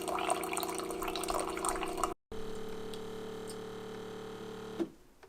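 A Keurig K-Duo Plus coffee maker runs a brewing cycle, its pump humming steadily with trickling water, then a brief gap, more pumping, and a final gurgling hiss as the flow ends.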